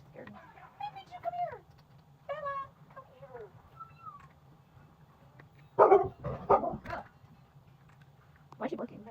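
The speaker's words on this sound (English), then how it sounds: "Why is she barking?" Dog barking indoors, a few short yelps and barks in a cluster near the end, with people talking throughout and a high cat-like whine early on.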